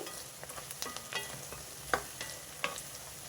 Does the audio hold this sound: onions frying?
yes